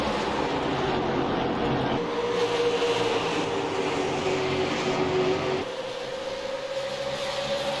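Super late model race cars wind up on an oval track, a loud continuous engine roar with rising whine that swells and shifts as the cars pass.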